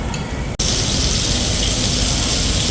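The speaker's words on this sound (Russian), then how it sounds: "Начался дождь, как всегда," Rain starts to fall outdoors in Kuala Lumpur, Malaysia, a dense, steady hiss of drops that fills the whole scene after a brief break near the start.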